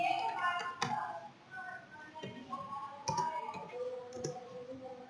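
A computer mouse clicks softly, several sharp ticks spaced a second or so apart over quiet room tone with faint voices in the background while working in ArcGIS.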